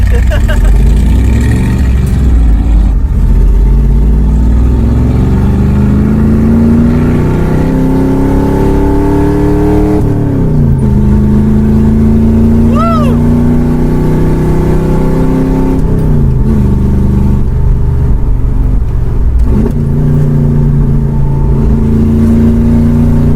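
A 1966 Ford Mustang engine revs and accelerates loudly, its pitch climbing in repeated surges, with people talking over it.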